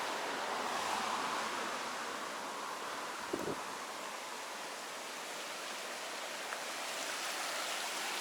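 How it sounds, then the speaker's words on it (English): A waterfall in a highland river setting gives off a constant broadband rush, steady and enveloping, with a brief soft knock partway through and no voices. "The waterfall we're looking for is down there."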